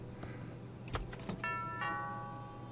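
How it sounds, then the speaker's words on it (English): A two-tone electronic doorbell chime in the game Thimbleweed Park sounds once, its bright tones ringing out and lingering after a few soft clicks. "Was that the doorbell?"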